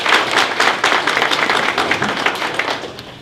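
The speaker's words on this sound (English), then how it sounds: "please give both presidents a round of applause." Audience members at a 2024 Magic City Classic press conference clap in a short round of brisk, fairly loud applause that tapers slightly toward the end.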